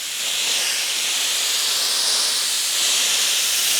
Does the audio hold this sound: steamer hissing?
yes